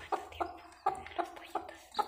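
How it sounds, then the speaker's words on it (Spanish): A hen gives soft, evenly spaced clucks, about six short calls with faint high peeps from chicks nearby, quiet and close. "Los pollitos."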